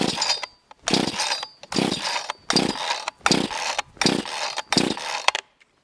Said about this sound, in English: I don't know how it's going to start without a throttle lock on it.